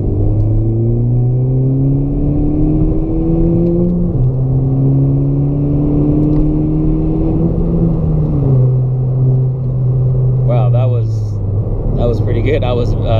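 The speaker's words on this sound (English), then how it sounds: "We'll do a third gear pull." A tuned 10th gen Honda Civic with ECU flashed and running about 23 psi of boost, pulling hard in third gear in sport mode, its engine note climbing steadily with gear-shift drops, loud and close inside the cabin; a voice speaks near the end.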